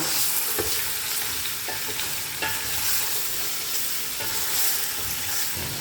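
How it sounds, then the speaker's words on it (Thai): Pork belly stir-fried in a pan for a braised pork belly and shiitake dish gives a steady close sizzle, with scraping stirs scattered throughout and no voices. "ผัดจนให้หมูเซ็ตตัว"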